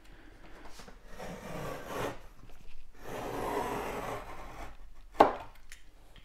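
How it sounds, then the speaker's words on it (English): A utility knife with a fresh blade scoring drywall along a T-square: faint, close scraping strokes in a few slow passes, ending with a short sharp click. "take our utility knife with our fresh blade, and we're just going to score right along our T-square"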